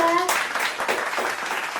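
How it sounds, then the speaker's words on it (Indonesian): Students in a classroom clapping for a discussion group returning to their seats, a short burst of scattered applause that starts after a brief tone and fades quickly, with talk mixed in. "Tepuk tangan untuk kelompok 3."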